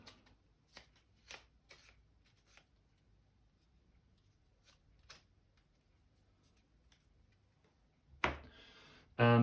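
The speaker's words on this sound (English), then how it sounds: "Now we can shuffle these." Quiet riffling and soft flicks of playing cards being shuffled for a Bloodborne board game, a few separate bursts, then a louder clattering snap at the end.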